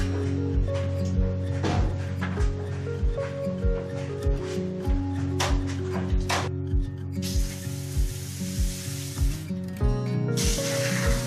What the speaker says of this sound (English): I'm hosing off the porch before I add the dish detergent.